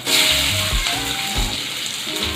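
Spices for an okra curry tempering sizzle in hot oil, a loud close hiss with bursts of crackle and some low clatter across the couple of seconds.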